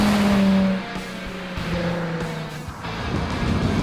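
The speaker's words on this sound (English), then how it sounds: "This exhaust note on the 350 is actually the most pleasing of all of these cars stock." A Nissan 350Z with its stock exhaust drones past, a smooth engine note that swells briefly at the start then settles into a steadier, slightly rough hum, fairly close and without talk.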